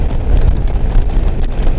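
Strong wind gusts buffet a rider on a Goldwing motorcycle during a snow and ice storm near Mount Rainier, producing a loud, continuous roaring rumble right against the microphone.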